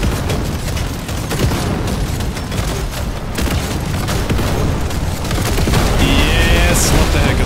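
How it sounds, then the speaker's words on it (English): Dense, continuous gunfire and booming explosions rumble and crackle from the Deep Rock Galactic Survivor video game, loud and unbroken throughout, with a brief electronic chirp near the end. "Too much explosion."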